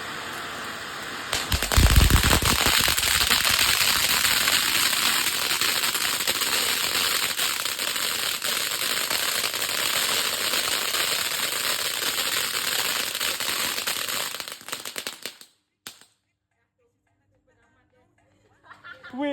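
Fountain fireworks crackle and hiss loudly and close by in a continuous burst lasting over ten seconds at a National Day celebration in Rasah Jaya, Malaysia, with people chattering underneath, before it abruptly goes quiet.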